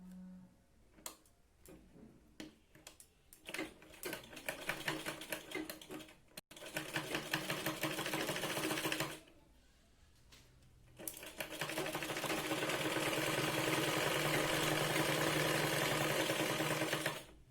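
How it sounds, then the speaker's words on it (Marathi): Sewing machine stitching a katori blouse, running in several short rapid bursts and then a longer steady run of fast, even stitching, close and clear with no talk. "खाली कडेने आपल्याला हिला परत एकदा इथे शिलाई लावून घ्यायची."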